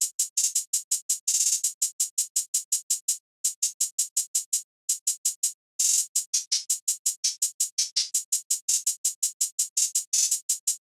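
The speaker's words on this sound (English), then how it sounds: "it's a very simple hi-hat pattern" A simple programmed hi-hat pattern from FL Studio's Legacy multi-kit plays alone as a fast, steady stream of crisp, bright ticks with brief gaps and occasional quicker rolls.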